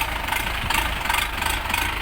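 An Orion 504 tractor with a 50-horsepower engine idles steadily and loudly close by, its even rattling chug running throughout with no talk.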